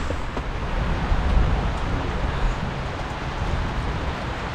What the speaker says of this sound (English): And we just lay back and listen to the rain.